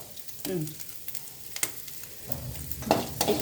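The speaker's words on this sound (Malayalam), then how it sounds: "കടു വറുപ്പ്, കറിവേപ്പില ഇട്ട് മൂപ്പിക്കുന്നു" Mustard seeds and curry leaves frying in hot oil, a steady sizzle with crackling pops and a few sharp clatters of stirring, close and moderately loud.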